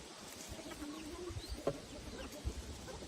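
Chickens cluck on a farm, soft and scattered against a steady outdoor background, with a couple of slightly sharper calls near the middle and end.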